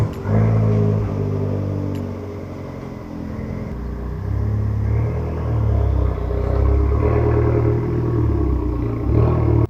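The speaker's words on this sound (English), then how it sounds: "when I first warmed it up, the car was obnoxiously loud." Loud, deep rumble of a turbocharged 2013 Fiat 500 Abarth engine and exhaust, running steadily close by with small shifts in pitch and throttle throughout.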